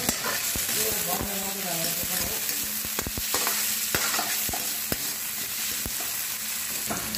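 Chopped tomato hitting a hot pan of frying noodles and cabbage, Nepalese style, with a steady bright sizzle and repeated scrapes and clinks of a stirring spatula, close up.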